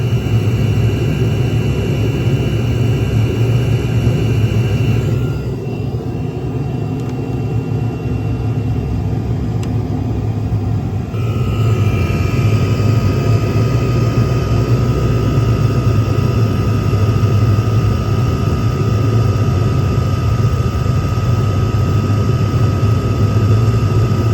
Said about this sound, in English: Having some issues with my diesel heater.